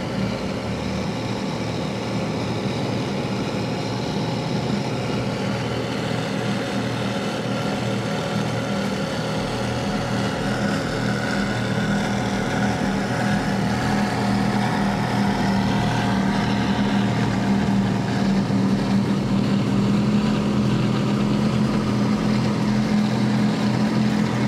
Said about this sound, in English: let's try to listen into these Mercury Racing 700 SCIs